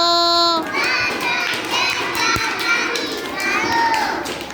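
Children clap their hands together on a teacher's counted command, a busy burst of claps mixed with lively kids' chatter and singing voices in a room.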